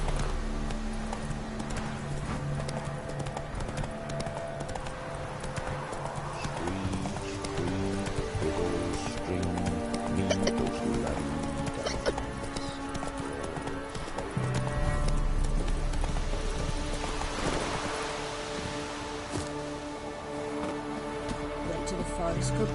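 Roach, the horse in the video game The Witcher 3, gallops with a fast, rhythmic clip-clop of hooves, close and continuous, over game music and occasional voices.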